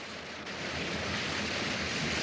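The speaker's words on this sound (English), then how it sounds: "we've got to the top of the waterfall, all right" Steady roar of rushing water at the top of a waterfall in a valley, a continuous broadband wash that swells slightly and holds loud throughout, with no voices.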